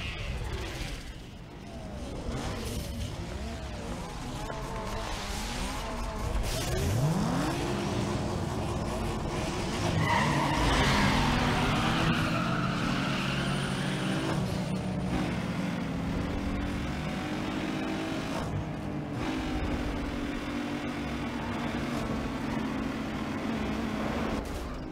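Race cars roaring around a track in the Need for Speed Underground 2 video game, engine drone rising and falling with rapid gear changes and passing whooshes, continuous and loud throughout.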